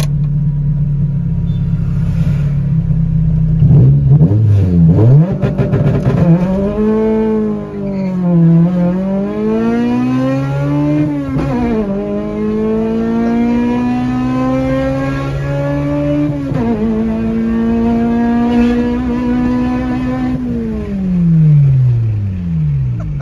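A project car with launch control sits at a loud steady idle, then the engine revs hard and pulls away, climbing through several gear changes with rising and falling engine tones, loud and close throughout.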